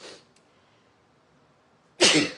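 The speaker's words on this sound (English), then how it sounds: "I'm going to sneeze." A single sharp, loud sneeze bursts out near the end after a quiet stretch, with a faint breath or sniff at the start.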